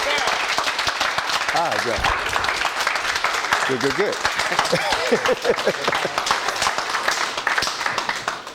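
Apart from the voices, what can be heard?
audience applause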